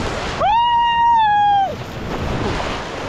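Waves breaking on the sea beach at Puri on a cold, windy day, a continuous rushing wash; a long sustained voice-like tone sounds near the microphone for over a second in the middle, then the surf continues by itself.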